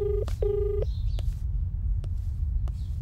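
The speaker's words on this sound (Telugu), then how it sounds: "రింగ్ అవుతుంది" A telephone call tone plays in a movie scene: two short electronic beeps followed by faint clicks and a low background hum, with no talking.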